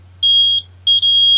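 Small piezo element driven by a 3-volt battery, giving loud, pure high-pitched electronic beeps: one tone, a brief gap, then a second longer tone over a low steady hum.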